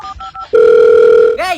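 A telephone call being placed: a few short electronic tone pips, then a long steady tone held for about a second, cut off as a voice briefly begins speaking.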